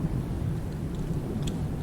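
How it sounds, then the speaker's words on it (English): Thunder sound effect made for a game, a low continuous rumble with a rain-like hiss on top, steady and moderately loud throughout a short stretch. "I really love these thunder sounds"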